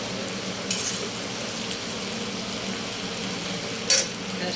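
Dry chilli chicken sizzles gently in a pan over a low gas flame, a soft steady frying hiss with a couple of brief clinks, no voices.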